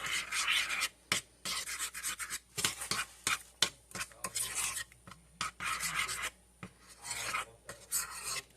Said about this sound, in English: I'm just getting the rest of that butter mixed in